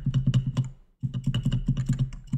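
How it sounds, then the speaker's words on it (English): A computer keyboard is tapped in quick rhythmic bursts of crisp clicks, including the spacebar, close and clear, with a short pause before the keystrokes resume; no voices. "We press the spacebar"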